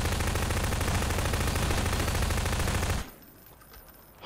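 Automated turrets in Half-Life 2: Episode Two fire rapid, sustained bursts of gunfire for about three seconds, loud and close, then cut off abruptly into quiet.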